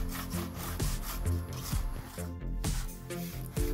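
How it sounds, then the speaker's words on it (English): A scraper rubs and scrapes hardened spray-foam tree roots off cardboard in repeated rough strokes, close and fairly steady. "use a scraper to remove the roots and also the tree from the cardboard"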